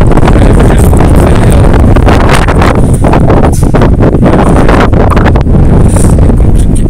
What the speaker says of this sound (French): Il y a beaucoup de vent encore